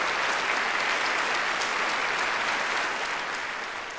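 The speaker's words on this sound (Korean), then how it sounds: "다 함께 한번 큰 박수로" Sustained audience applause at a Korean history book concert on Ganghwa Island, dense steady clapping from a large crowd that holds loud for about four seconds and slowly eases off at the end.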